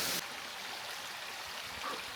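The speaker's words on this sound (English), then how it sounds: "And here you see the top of the waterfall, like the stream here." Stream water rushes steadily over rocks at the top of a waterfall in rural Cambodian jungle, a continuous close hiss with a brief louder splash at the very start.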